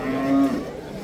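An ox at a Samarkand livestock market lets out a single short, close moo that rises and falls over a low murmur of market background.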